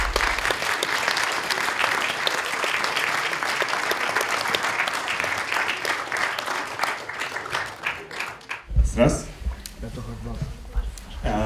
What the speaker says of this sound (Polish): Dziękujemy serdecznie za te brawa.